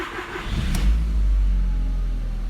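A car engine cranks briefly and catches after an alternator replacement, then settles into a steady low idle that holds close and even to the end.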